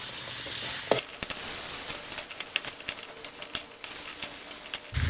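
Papaya pieces dropped into hot frying oil sizzle steadily, with a broad hiss and scattered sharp crackles and pops throughout, a louder burst near the start.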